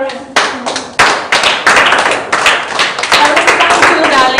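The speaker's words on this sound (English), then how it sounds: "Clap for Lauren." An audience claps in a burst of sharp, close hand claps that begin sparsely, then build into steady, rapid applause lasting a few seconds.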